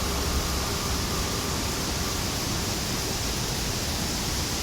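Ravana waterfall in Sri Lanka, a dense, unbroken rush of falling water filling the whole clip at a steady, loud level with no pauses.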